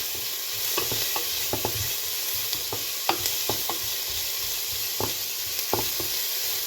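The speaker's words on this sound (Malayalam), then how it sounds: "സവാള ഇട്ട് കൊടുത്ത് പച്ചമുളക് ഇട്ട് കൊടുത്ത് ഇനി ഇതൊന്ന് ചെറുതായിട്ട് വഴന്നു കഴിയുമ്പോൾ" Onions and green chillies sauté in a pan for Kerala-style theeyal, giving a steady sizzle with intermittent stirring clicks from a utensil, close and continuous with no talking.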